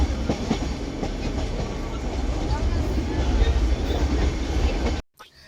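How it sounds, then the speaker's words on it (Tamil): The Nilgiri toy train picking up speed on the mountain railway toward Ooty, heard as a loud, continuous rumble with a faint clickety-clack of wheels on rails that cuts off abruptly near the end. "ஸோ அந்த இன்ஜின் சேஞ்ச் பண்ண அப்புறம் கொஞ்சம் ஸ்பீடாக போக ஸ்டார்ட் ஆகிடுச்சு ட்ரெயினு."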